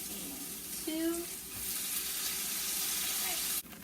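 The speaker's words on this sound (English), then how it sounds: "I'm going to attempt to put cheese side down in the pan." Cheese laid face-down in a hot pan crackles and sizzles with a steady frying hiss, joined by a brief clink of a utensil, then a sharp knock at the end.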